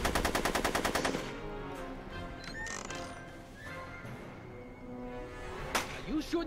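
Rapid burst of gunfire from the Back to the Future adventure video game opens loudly, then fades into a busy game soundtrack with scattered effects and a horse-like whinny later on.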